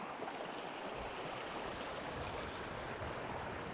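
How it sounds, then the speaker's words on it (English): Santa Ysabel Creek flows through the preserve, giving a steady broadband rush of running water that stays constant and fairly faint throughout. "Santa Ysabel Creek."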